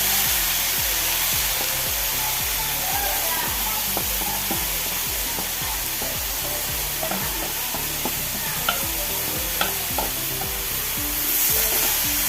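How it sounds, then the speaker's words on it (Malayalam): Grated papaya being stirred with salt in a hot frying pan over mustard seeds for Kerala-style papaya thoran, giving a steady loud sizzle with repeated scraping strokes of the spoon throughout, no voices. "നമുക്ക് പപ്പായി ചേർത്ത് കൊടുക്കാം ഉപ്പ്"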